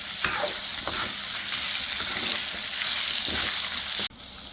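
Chillies with turmeric and salt fry in a pan for tomato coriander chutney, giving a steady, close sizzle with occasional stirring scrapes, then a brief drop near the end before the sizzle resumes.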